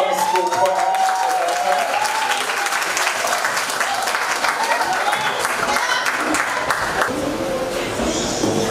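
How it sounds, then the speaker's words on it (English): An audience at a summer school closing ceremony gives the choir a sustained round of applause, dense clapping that fills the room and fades slightly toward the end, with voices faintly mixed in. "can you please give a round of applause to the summer school choir?"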